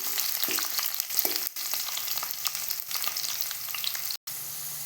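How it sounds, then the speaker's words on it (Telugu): Tempering with two dried red chillies fries in a pan for a Gongura pulihora, a steady close sizzle and crackle with short stirring scrapes, broken by a couple of brief gaps. "గోల్డెన్ కలర్ వచ్చే వరకు వేయించుకొని"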